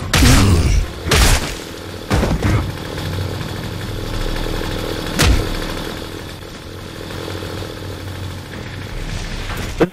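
A chainsaw revs in the Gears of War video game, with a rough motor drone carrying through the whole stretch and loud bursts like gunfire and impacts cutting in near the start and the middle.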